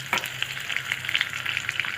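Cashews frying in a pan with curry leaves, a steady close sizzle and crackle broken by light scraping and clicking as they are stirred.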